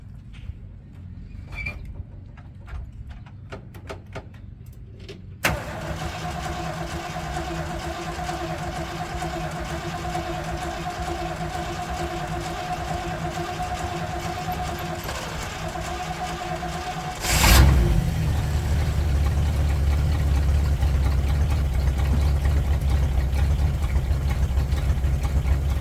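An old vehicle with no working choke cranks briefly, catches at once and settles into a steady, loud idle that rises and roughens near the end as revs pick up; no one speaks.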